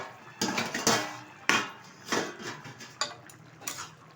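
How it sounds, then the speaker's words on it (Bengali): A spoon stirring boiled vegetables for shukto in a pot, a series of quiet scraping and clinking strokes spaced about half a second apart, with no talking. "সব সবজিগুলো একটু ঘেটে দিচ্ছি, সিদ্ধ হয়ে গেছে খুব সুন্দরভাবে।"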